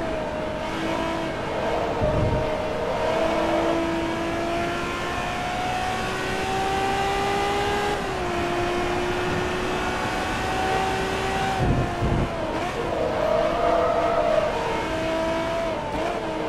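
Car engine in the racing game Forza Motorsport 2, a steady droning whine that climbs and drops through gear changes, loud and close, with no talk over it.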